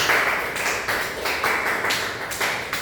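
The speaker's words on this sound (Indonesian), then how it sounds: "Beri tepuk tangan untuk Nak Syahrir." Students in a sixth-grade classroom clap for a classmate, a dense burst of hand claps that rises and falls in several waves, fairly close and loud, with no talking over it.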